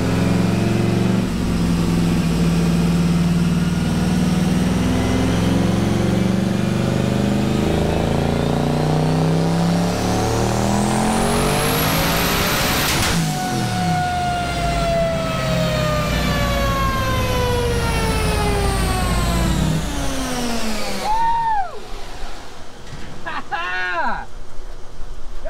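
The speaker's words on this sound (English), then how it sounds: "we're back on the dyno, and we are definitely making some power." A 1400-horsepower 1979 Pontiac Trans Am engine screams on a dyno, climbing steadily to a loud high-rpm peak, then dropping and winding down in one long, close pull.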